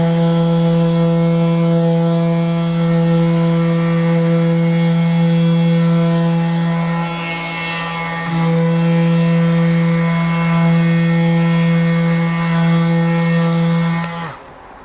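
A Milwaukee M12 Fuel compact random orbital sander running at speed 4 without a vacuum or dust bag, a loud steady whine with a brief dip in pitch midway, then cutting off at the end.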